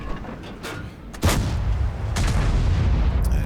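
Tank gun fired in the World of Tanks video game, with a few faint early pops and then one loud, sharp boom that rolls into a sustained rumble of engine and battle noise.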